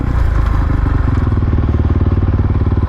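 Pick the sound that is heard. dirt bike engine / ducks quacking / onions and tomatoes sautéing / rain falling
dirt bike engine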